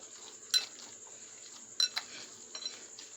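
Chicken mince mixed with a few drops of ghee in a bowl, soft stirring marked by three clusters of light utensil clinks and scrapes against the bowl over a quiet background.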